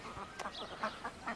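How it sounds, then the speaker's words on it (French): An Indian runner duck quacking, a few short nasal calls close by, set against light outdoor background noise. "Et le canard coureur indien"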